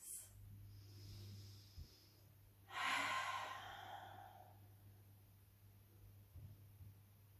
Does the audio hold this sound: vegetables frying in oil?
no